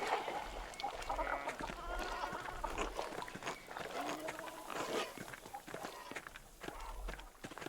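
Chickens cluck and scratch in the medieval game Pentiment, with busy, close clucking and pecking under steady footsteps-like shuffling and rustle.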